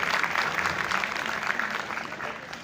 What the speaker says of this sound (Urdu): تو خصوصی تالیاں ان کی پوری فیملی کے لیے، ندیم اعجاز صاحب کے لیے